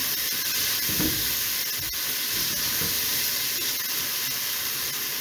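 Chopped tomato and two green chillies fry in a spiced masala in a pan, giving a steady, even sizzle and hiss that continues throughout, with no talking.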